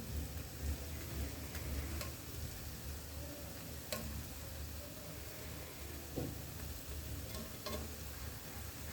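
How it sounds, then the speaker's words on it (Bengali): Palm fruit fritters (taler bora) fry in oil over a low flame, giving a continuous soft sizzle and bubbling with a few faint ticks and clinks. "চুলাটা আস্তে করে দিয়ে দুই পাশে কালার আসা পর্যন্ত উল্টে পাল্টে ভাজবো"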